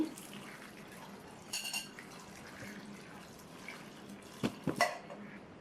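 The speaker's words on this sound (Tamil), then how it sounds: "நல்லா முங்குற அளவுக்கு தண்ணி சேர்த்து" Water is poured into a vessel over sliced bitter gourd mixed with rock salt and turmeric, giving a quiet running trickle and a few brief clinks from the vessel, with no talking.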